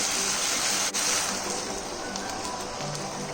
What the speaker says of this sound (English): At this point, I'm going to add water.